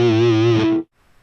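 An electric guitar through the overdrive effect on a Line 6 POD HD500X: a single loud, sustained distorted chord with slight wavering that cuts off abruptly, leaving near silence.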